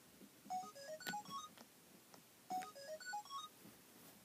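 An electronic phone ringtone in a video game plays a rising melodic jingle, then repeats it once, clear and fairly close.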